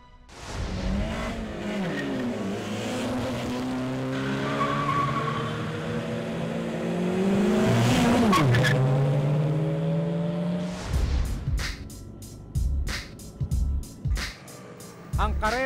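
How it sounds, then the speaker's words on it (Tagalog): Motorcycles in an illegal night street race on Macapagal Boulevard scream past at high revs, rising and falling engine whines with a close pass, then sharp clicks and bursts of commotion at the end. "Ang karera ng motorsiklo sa Macapagal Boulevard, malakihan ang pustahan."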